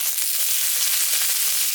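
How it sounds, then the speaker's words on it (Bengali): Chopped onions sizzle hard in hot oil for a soybean korma, a bright, dense crackle that holds steady and close with no voices. "এবার এর মধ্যে আমি পেঁয়াজ দিয়ে দিচ্ছি।"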